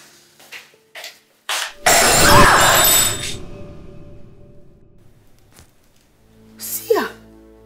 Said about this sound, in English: You just broke their glass cup.